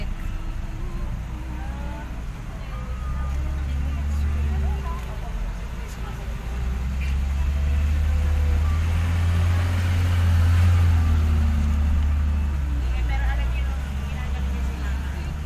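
Road traffic in Tagaytay, Philippines, with cars and buses passing close by, a steady low engine rumble that swells as a vehicle accelerates midway, while people talk over it.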